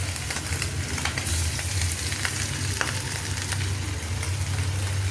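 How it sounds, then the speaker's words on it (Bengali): Fish frying in hot oil in a home kitchen, giving a steady, close sizzle throughout with a low hum underneath and occasional soft crackles and stirring touches. "তো আমি মাছটা একটু ভাজা নেই"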